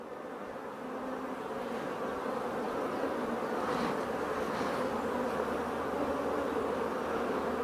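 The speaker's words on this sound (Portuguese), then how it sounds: "aqui vai nascer uma abelha" Honeybees on a hive frame where new bees are hatching hum and buzz in a steady, dense drone that stays close and continuous throughout, with no voices.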